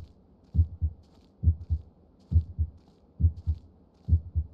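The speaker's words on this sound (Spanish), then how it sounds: "Pero escuchan los latidos, ¿eh?" Heartbeat in the game Shadow of Rome HD: steady double thumps, lub-dub pairs repeating about once a second, deep and muffled, heard alone without talk.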